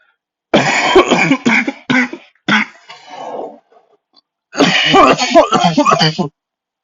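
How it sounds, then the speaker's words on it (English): Several harsh coughs and throat-clearing bursts from someone with a cold, close and loud, in quick clusters with brief pauses between. "also I'm really sick, so I'll be coughing a lot."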